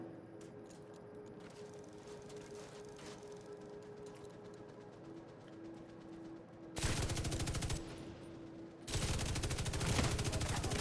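Rapid automatic gunfire from an LMG build in The Division 2, arriving in two sustained loud bursts late on, preceded by quieter game ambience with faint distant shots.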